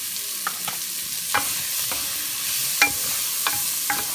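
Onion and carrot stirred in a pan over low heat: a soft steady sizzle runs throughout, with a handful of light scraping stirs at irregular intervals, close and fairly quiet, with no talking.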